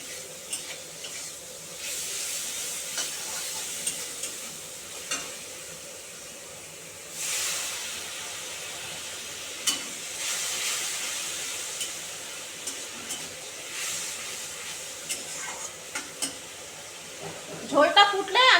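Curry gravy simmering at a boil in a pan, a steady soft hiss and bubbling with occasional light clinks of a utensil against the pot, growing busier near the end.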